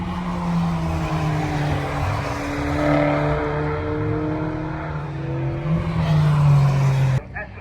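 Race car number 107, a Fiesta, at a Castle Combe circuit action day: a loud engine rising and falling in pitch as it passes close by, with tyre noise, while people talk over it.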